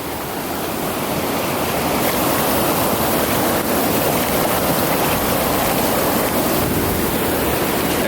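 Fast-flowing mountain stream in the Montana wilderness rushes in a steady, loud broadband roar, continuous and close throughout with no voices.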